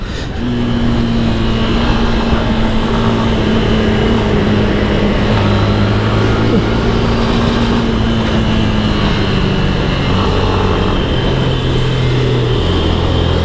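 Yamaha FZS V3 motorcycle engine droning steadily while riding, a loud continuous hum with slight pitch shifts as speed changes, mixed with wind noise and no talking.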